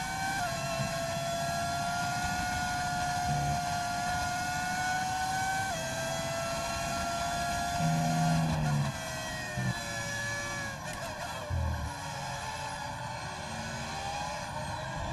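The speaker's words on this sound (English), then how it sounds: "V10 audio mod." A V10 engine audio mod screams in the F1 25 racing game at Silverstone in reverse, a steady high-pitched whine that rises through gears with brief shifts, loud and continuous throughout.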